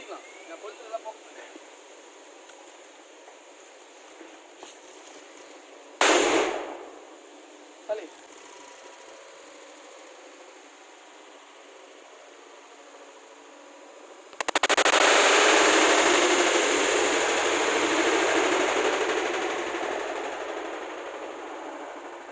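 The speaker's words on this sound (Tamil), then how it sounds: "காக்கில் வெடி இரநூத்தம்பது கிராம் வெடி" Large 250-gram country firecrackers go off outdoors, first a sharp loud blast followed by a smaller pop, then after a pause a second powerful explosion that trails into a long roaring hiss lasting several seconds.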